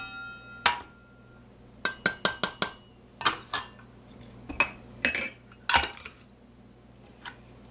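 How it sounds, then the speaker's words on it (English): Flour being mixed in a bowl for chocolate chip cookie dough, heard as a string of sharp utensil clinks and taps against the bowl, some in quick bursts, close by with a low hum beneath. "In the bowl we're going to mix together the cup and a half of flour,"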